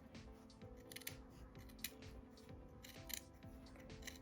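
Scissors cutting folded velvet fabric by hand, a run of soft snipping crunches at an uneven pace, close but faint over a steady hum.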